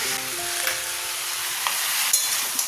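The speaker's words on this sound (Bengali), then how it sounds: "সবজিগুলো একটু ভেজে নিচ্ছি" Vegetables for a spinach dish fry in a pan, giving a steady, close sizzle throughout with a few brief scraping stirs and no voices.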